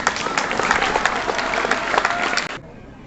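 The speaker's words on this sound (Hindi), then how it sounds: "तालियों के साथ स्वागत कीजिए उनका" Dense applause fills a school NSS closing ceremony at GSSS Mandli in Una, Himachal Pradesh, as a guest is welcomed; steady, loud clapping from many hands that cuts off abruptly near the end.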